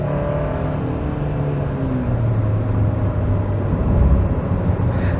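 A 2022 Hyundai Santa Cruz SEL Premium pickup with a dual clutch transmission accelerates under throttle, a steady engine drone heard from inside the cabin, rising slightly in pitch as it gains speed with no talk.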